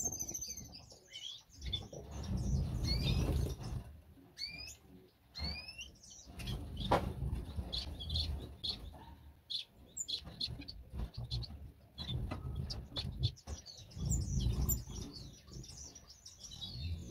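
Caged bird singing inside a bird shed, repeated bright chirping and warbling phrases close by, with rustling, wing flutters and low background rumble between and under the song.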